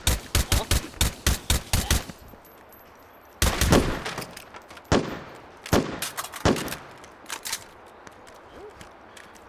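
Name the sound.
gunfire in H3VR video game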